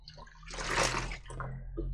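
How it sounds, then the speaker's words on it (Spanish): Water pours onto a potted orchid, one close splashing burst that swells and then trickles off into a few smaller pours and drips, with no talk. "Así es como me gusta regar bien la orquídea."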